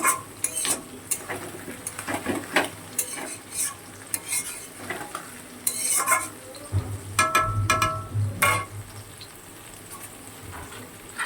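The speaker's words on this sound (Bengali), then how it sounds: "ভালোই ভাজা ভাজা হয়ে গেছে, কিন্তু ভেজে নিয়েছি" Onions, potatoes and a small tomato frying in a pan before crab is cooked, close spoon scrapes and clinks in irregular bursts over a light sizzle, with no speech.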